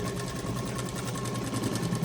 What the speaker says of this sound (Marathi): मी एकदम हळू स्टिच करत शिलाई मारत आहे इकडे.